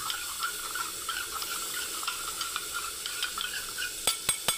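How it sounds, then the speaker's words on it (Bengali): Pointed gourd (potol) frying in spiced oil, a steady crackling sizzle with light stirring scrapes and a few sharp utensil taps near the end. "এখানে আমার পটলগুলোকে ভাজতে দিয়েছি আমি বন্ধুরা"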